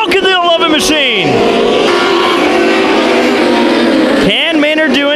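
Mod Light race cars roar past on the KCRP dirt oval, engines rising and falling as they go by, loud and close, while an announcer talks over them.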